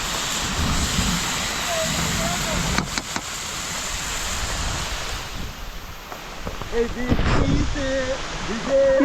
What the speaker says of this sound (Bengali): বৃষ্টি দেখো ঝড় ক্যামেরা দুটো সব ভিজে যাচ্ছে